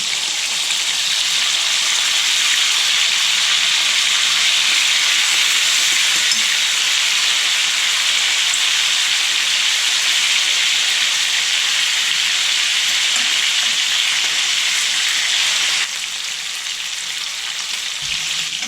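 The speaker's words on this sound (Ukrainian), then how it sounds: "Перевіряємо, чи підсмажилося наше м'ясо та перевертаємо його на другу сторону." Meat frying in a pan, a steady loud sizzle with crackling that continues without pause and softens slightly near the end.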